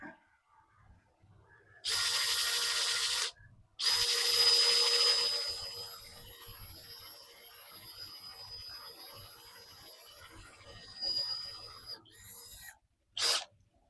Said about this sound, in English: I could go ahead and drill the hole here while I have the bit in